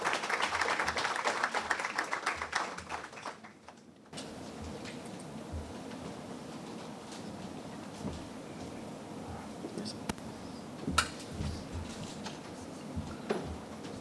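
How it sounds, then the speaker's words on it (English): A conference audience at an economics forum applauds to welcome a speaker, with a burst of clapping for about four seconds that cuts off into a quiet room and soft, distant speech. "With a round of applause, welcome our very first speaker"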